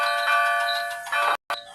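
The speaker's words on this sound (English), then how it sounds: "The bell chimed cheerfully as it was loaded onto Duncan's flatbed." A large bell being loaded onto a flatbed wagon rings with a bright, sustained chime and humming overtones, struck again before a brief dropout of silence.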